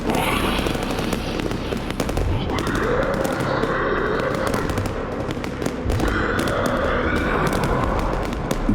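Rapid gunfire crackles as a sound effect in a horror story narration, dense popping bursts of shots spread across the whole stretch, loud and steady under a layered ambient background.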